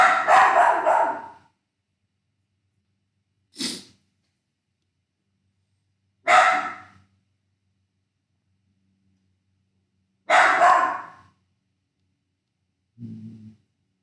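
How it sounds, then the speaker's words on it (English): Dogs bark indoors in four separate loud bursts spaced several seconds apart with silence between, followed by a softer, lower final yelp. "the dogs are going nuts"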